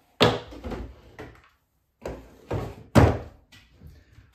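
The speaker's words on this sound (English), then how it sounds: "Let's put the box away." A cardboard box packed with an LCT LK53 airsoft rifle and its parts gets put away, giving a few dull thumps and knocks close by in three separate bursts with short gaps between them and no talking.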